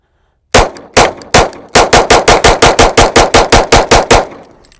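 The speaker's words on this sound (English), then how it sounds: "So first shots with the Canik METE MC9 Prime." A Canik METE MC9 Prime 9mm pistol fires a rapid string of about seventeen loud, sharp shots close by, a few spaced shots first and then a quick even cadence, with no talking.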